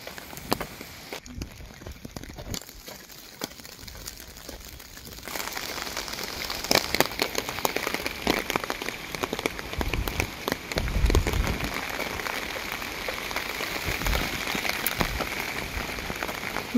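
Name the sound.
rain falling in a park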